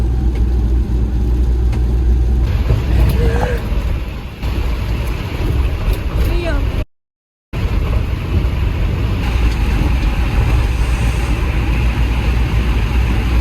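A car pushes through flood water in Greece with a loud, continuous rushing wash and low engine rumble, close up, with wind buffeting and a brief dropout.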